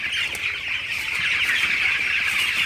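Broiler chickens cluck and chatter continuously on a farm, a dense, steady flock sound with overlapping calls and no talk.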